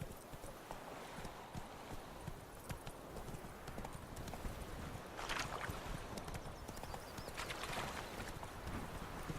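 Roach, the horse in The Witcher 3, gallops with steady, rapid clip-clop hoofbeats at a moderate distance, a continuous rhythmic pounding over soft ambient noise with no speech.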